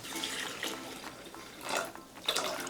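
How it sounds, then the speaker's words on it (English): Water pours steadily into a Thermomix bowl holding crushed lemon for lemonade, a close, continuous splashing rush that swells in two brief louder surges. "now it's asking for 34 ounces of water"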